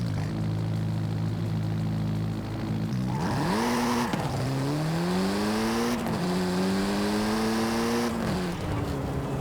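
A Volkswagen Golf R 7.5 in Forza Horizon 5 accelerates hard uphill, its engine revving up through the gears in rising sweeps with brief drops at each shift, loud and close with no talk.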